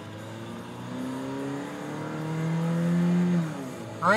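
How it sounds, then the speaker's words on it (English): A 2006 Toyota Tacoma pickup accelerates hard, its engine note climbing steadily through the gears with clear shift dips, loud and close, ending in a sharp burst of tire or engine noise. "I'll show you how it shifts, how it accelerates."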